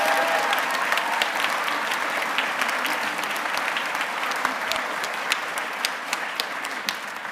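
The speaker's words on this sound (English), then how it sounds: "Another round of applause for our awesome chorus." A school spring concert audience gives the chorus a round of applause, dense and steady crowd clapping that holds at an even level throughout.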